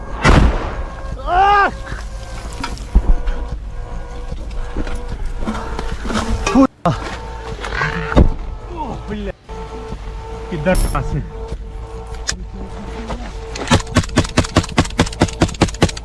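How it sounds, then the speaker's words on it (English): A mortar round explodes meters from a Polish fighter in combat, with sharp blasts and bursts of gunfire in a rapid volley near the end and a voice speaking over the chaotic outdoor noise. "A mortar mine lands just meters away from Polish fighter."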